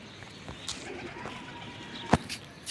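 Pigeons kept by a fancier, including a young bird still fed by its parents, give soft low coos in a quiet setting, with a few faint flutters and clicks and one sharp nearby knock.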